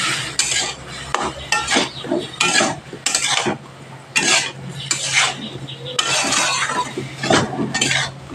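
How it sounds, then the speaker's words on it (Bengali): Spiced potato and eggplant are sautéed in a pan for a prawn and banana stem dish, with repeated scraping stirs and utensil clinks over a low sizzle, close and rhythmic. "দিয়ে ভালোভাবে কষিয়ে নিতে হবে"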